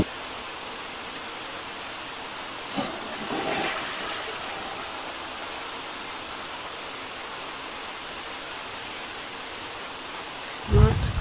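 A toilet flushes in a Disney Princess Snow White challenge video game: a brief rushing swirl of water over a quiet background, followed later by a short, louder thump.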